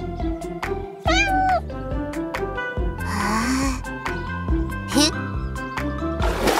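A kitten meows repeatedly, high and sometimes drawn-out or rising, amid a busy background of other cartoonish noises and voices in an animated children's cartoon.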